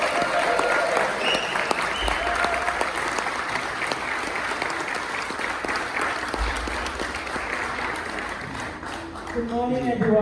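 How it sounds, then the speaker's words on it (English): An audience applauds for a group of children at a fire brigade event: steady, full clapping from a sizeable crowd that continues throughout, with a voice speaking briefly near the end. "a big round of applause please for them"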